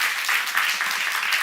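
Church congregation applauding at a Korean Jesus-centered church Genesis seminar, a steady dense wash of clapping sustained throughout without gaps.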